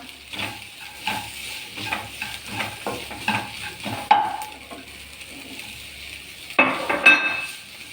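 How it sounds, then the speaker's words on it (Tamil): Elanji snack filling with sliced nendran banana is stirred and mixed in a pan, giving close, rhythmic scraping strokes over a soft sizzle, with a few sharper utensil clinks near the end. "நல்லா மிக்ஸ் பண்ணலாம்."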